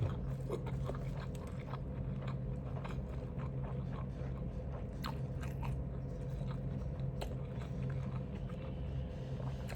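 Close, steady biting and chewing of gudeg skin, soft braised skin served with Yogyakarta-style gudeg, with moist crunching and mouth sounds continuing throughout over a low constant background hum.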